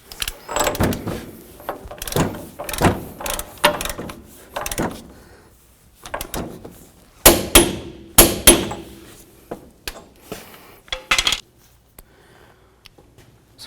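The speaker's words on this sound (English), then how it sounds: "We're gonna torque this down with our 36mm socket to 173 foot-pounds." A torque wrench with a 36mm socket tightens the front hub axle nut on a 2003-2009 Toyota 4Runner. It produces a series of sharp metallic clicks and clanks in irregular bursts, close and fairly loud, with quiet gaps between them.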